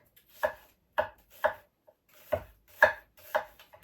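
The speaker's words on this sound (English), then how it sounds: "So I have my onions ready to go. And I'll chop those too." Six sharp knife chops through onions on a cutting board, spaced about half a second apart with a brief pause midway, close and crisp with no talking.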